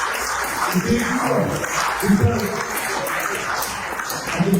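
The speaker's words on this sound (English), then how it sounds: "Give yourself a huge applause for making that sacrifice." Convention audience applauding in a large hall, a steady broadband wash of clapping that swells slightly at times, with a speaker's voice talking over it.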